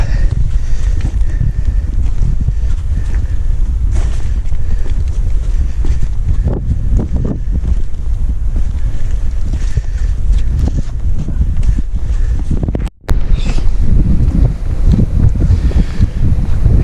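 Steady wind gusts across a coastal bay on a February shoreline between Runswick Bay and Port Mulgrave, a continuous loud low roar buffeting the microphone throughout with a brief dropout near the end.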